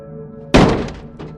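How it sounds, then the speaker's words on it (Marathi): A ceiling fan crashes down onto a bed with one sudden, loud, heavy thud and a brief rattling tail. A fainter knock follows, over a low droning musical background. "धडाम आवाज करत पंखा बेडवर कोसळला"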